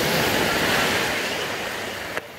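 Ocean surf rolls onto a Sri Lankan beach at Jungle Beach, Unawatuna, a loud broad wash of breaking waves with wind noise, no talk over it.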